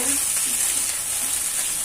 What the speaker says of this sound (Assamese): মই এতিয়া আগতে তেল দি মাংস ভাজিছো